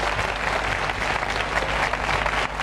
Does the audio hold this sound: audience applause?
yes